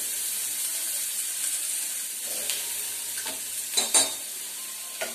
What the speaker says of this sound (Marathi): त्यात 4 हिरव्या मिरच्या घेतल्यात आणि 1 कांदा घेतलाय, ते टाकते.